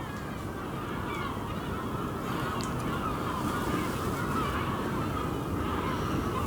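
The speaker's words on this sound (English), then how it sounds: "I know the seagulls are going." Honking bird calls, likely gulls, sound over a steady rush of wind or surf, fairly loud and continuous with a few sharper cries standing out.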